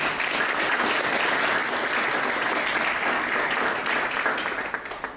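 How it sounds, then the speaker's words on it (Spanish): An audience bursts into sustained, dense applause to welcome a speaker at a session on the 2012 census, clapping loudly throughout before tapering slightly at the end. "yo les pido que la recibamos con un aplauso"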